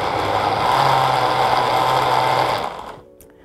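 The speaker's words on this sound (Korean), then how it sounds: "한번 갈아 보겠습니다." A blender grinds thick pasta sauce ingredients: a loud, steady motor whir and churn that runs for about two and a half seconds, then winds down and stops.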